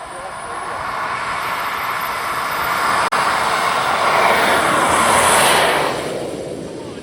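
An Aviation Design F16 RC model jet roars continuously as it flies past in the evening, its high whooshing turbine swelling loud and then fading slightly near the end.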